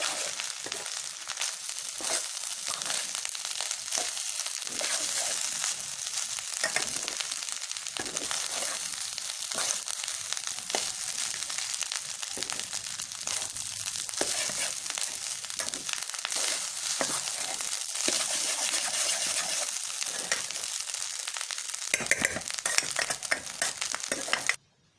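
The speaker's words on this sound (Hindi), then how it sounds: "सोया सॉस के बाद ये थोड़ा सा चिली सॉस शामिल करेंगे। इसको जो फिर अच्छे तरीके से मिक्स कर लेंगे।" Egg fried rice with soy and chili sauce sizzles hard in a hot pan, with continuous crackling frying and repeated scraping and stirring strokes up close, ending abruptly.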